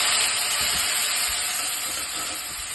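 Spice paste dropped into hot oil already crackling with asafoetida and five-spice seeds, cooking for a potato and pumpkin chhakka, gives a steady, dense sizzle that holds for a few seconds without any talking.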